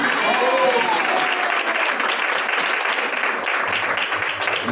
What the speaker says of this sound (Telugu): హుషారు కొడతారు చప్పట్లు మాత్రం